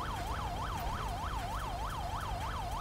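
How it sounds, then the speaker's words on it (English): A police siren in the GTA 5 video game wails in a fast, regular up-and-down cycle, steady and prominent over a low traffic rumble. "Whose siren is on?"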